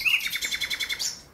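Nightingale song in a Polish radio drama: a rapid run of about ten clear, evenly spaced whistled trill notes, close and fairly loud, ending in a brief rising phrase before fading, with no talk over it.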